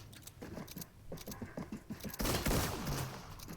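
Gunfire from the Fortnite video game, Season 3, crackles through a build fight: a quick series of light shots followed by a denser, louder burst of firing, all fairly quiet overall.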